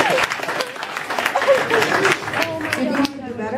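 Audience applause at a high school hypnosis show: a lively burst of clapping from a crowd with cheers and excited voices mixed in, continuing throughout before tapering off near the end.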